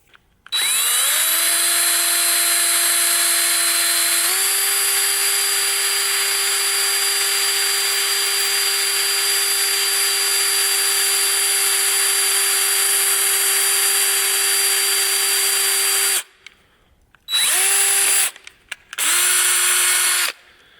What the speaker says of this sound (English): I really do recommend pre-drilling these holes